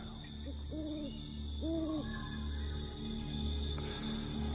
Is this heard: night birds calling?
yes